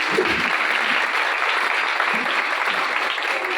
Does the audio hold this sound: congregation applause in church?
yes